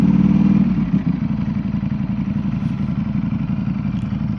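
A 2025 Ducati Panigale V4 superbike engine runs loud and close, with a strong throbbing burble that dips briefly after a moment and then settles into a steady, pulsing idle.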